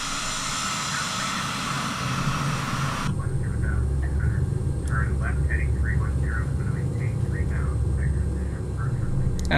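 A CRJ 700 airliner's jet engines spool up for a rolling takeoff in the X-Plane 11 flight simulator, a steady loud roar with broadband hiss that thickens after a few seconds, with a low rumble underneath.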